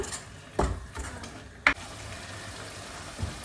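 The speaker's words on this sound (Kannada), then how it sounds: "ಈಗ ನೋಡಿ ನೀಟಾಗಿ ಫ್ರೈ ಆಗಿದೆ ಮಸಾಲೆ ಎಲ್ಲ" Masala for a village-style fish curry frying in oil, a soft low sizzle with a couple of sharp scraping stirs and clinks of a spoon against the pan, otherwise quiet and close.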